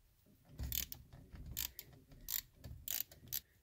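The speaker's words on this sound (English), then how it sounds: "Next, you want to grab your 8mm socket and remove the bolts on each side." A ratchet on an 8mm socket works bolts off a 1998–2002 Ford Ranger steering wheel, giving quiet, close bursts of rapid clicking with short pauses between strokes.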